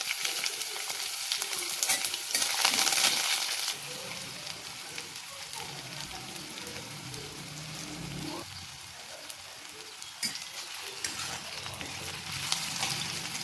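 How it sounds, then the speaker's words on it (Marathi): Curry leaves and finely chopped onion sizzle steadily in a hot pan, a dense continuous crackle that swells louder for a couple of seconds early on, then settles into an even, close fry with occasional spatters. "आता आपल्याला कढीपत्ता व आपण कापलेला बारीक कांदा त्यात टाकून द्यायचा."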